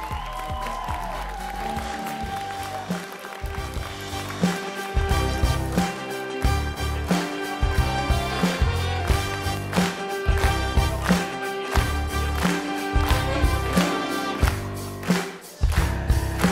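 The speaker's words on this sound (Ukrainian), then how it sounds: "давайте більше оплесків цим командам" Audience applause at a Poltava Student Comedy League semifinal as teams gather on stage, a steady clapping wash mixed under loud, beat-driven stage music throughout.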